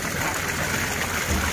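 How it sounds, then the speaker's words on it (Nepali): Water flowing near the source of a hot spring at Myagdi Tatopani, heard as a steady, close rushing stream for the whole moment, with no talking. "यो चाहिँ मूल नजिकै पानी आउँछ"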